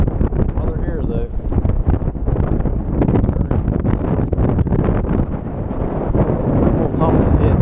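Strong wind gusting over a lake during pre-spawn bass fishing from a boat, a steady loud rushing buffet across the microphone throughout, with someone talking over it.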